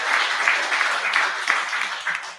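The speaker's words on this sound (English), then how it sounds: "Let's give a round of applause." A round of applause from a small gathering at a live charity event, a short burst of steady clapping close by that tapers off after a couple of seconds, with a voice faintly underneath.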